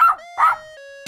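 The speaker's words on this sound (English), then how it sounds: "Dog." A dog in an escape-room guessing game gives two short, bright barks close up, followed by a lingering musical tone.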